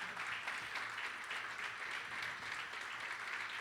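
Church congregation claps for a pastor, a steady, even wash of applause from many people, fairly distant and continuous with no talk over it.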